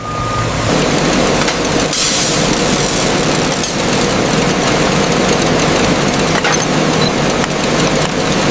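Heavy truck engine rumbling steadily as it pulls forward at a sunflower seed intake pit in an oil processing plant, loud and continuous with low idling drone and a faint beeping in the background.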